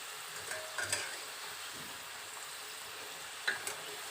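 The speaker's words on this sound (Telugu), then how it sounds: "చక్కగా ఆలు కూడా మనకి మొత్తం ఫ్రై అయిపోతుంది" Potato pieces frying in oil for an Andhra-style potato pickle, a steady low sizzle with a few faint clinks of a utensil against the pan.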